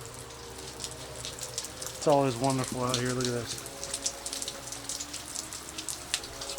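Pouring rain patters steadily outdoors in Kentucky around a build site, a constant hiss of drops beneath someone speaking briefly in the middle.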